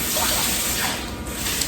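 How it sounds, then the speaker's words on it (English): A spoon is rinsed under a running tap, giving a steady splashing hiss of water that stays fairly loud for the whole moment. "I'm gonna rinse my spoon off"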